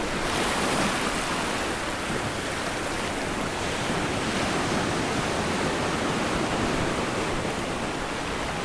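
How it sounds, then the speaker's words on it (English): Salt-water ocean waves roll in steadily as the tide comes in, a continuous loud wash of surf with some wind rumble and no voices. "The tide continues to come in."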